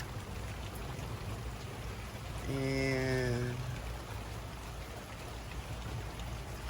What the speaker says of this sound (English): Thankful for another day of rain